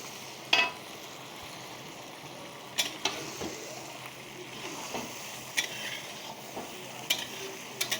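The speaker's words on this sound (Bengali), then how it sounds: "এখন দিয়ে এটা ভালো করে মশলার সঙ্গে মিশিয়ে নেব" Marinated mutton is stirred with spices in a wok, giving a low sizzle broken by scattered clinks and scrapes of a ladle against the metal, with no speech.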